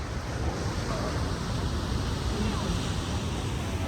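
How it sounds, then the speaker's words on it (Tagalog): Strong ocean waves at the shore near the Golden Gate Bridge, a loud, steady broadband roar of surf mixed with wind buffeting the microphone, continuous throughout. "lakas ng ano alon no. Oh, alon-alon."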